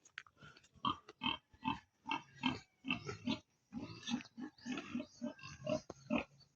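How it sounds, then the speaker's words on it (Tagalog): A farm pig grunts and oinks repeatedly in close, rhythmic bursts, apparently while being bathed early in the morning, with short pauses between the calls. "ang aga maligo ng baboy"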